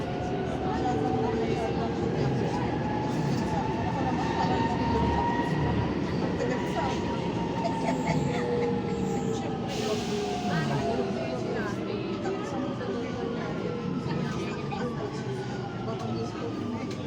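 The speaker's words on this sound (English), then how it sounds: "This train is moving under the ground and in a very speed." An electric underground metro train speeds through a tunnel in Rome, its steady loud rumble and rail noise filling the whole stretch with a brief hiss of brakes or air partway through.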